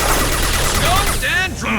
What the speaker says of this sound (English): Heavy weapons. Firing a high-impact shot.